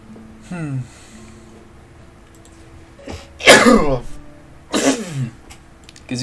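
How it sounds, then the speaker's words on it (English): A sneeze bursts out during a livestreamed digital art session, preceded by a faint sniff and followed by a second, shorter sneeze-like burst, close to the microphone in a quiet room. "And a little bit of a sneeze there."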